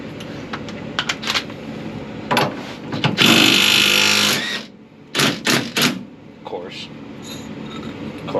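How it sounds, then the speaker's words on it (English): A 12-volt half-inch cordless power gun whirs in one loud, sustained burst of about a second and a half, with clicks, clanks and brief talk around it. "If you don't have one of these 12-volt half-inch guns,"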